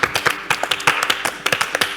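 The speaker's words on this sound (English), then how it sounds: "Clap for volunteers." Steady rhythmic hand clapping from a small group, loud and close, continuing without pause and no voices.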